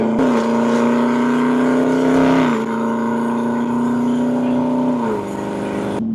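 A high-horsepower car accelerates away hard, its loud, close engine holding a strong steady roar with two brief dips in pitch as it shifts through gears.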